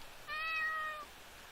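A cat meows once in the Ao Oni horror video game, a clear mid-length tonal meow heard alone over quiet background.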